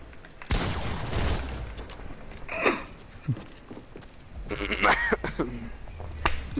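Shotgun blast followed by P90 fire in a Fortnite build fight, sharp loud shot early on, then scattered lighter shots and clatter, with brief noises in between.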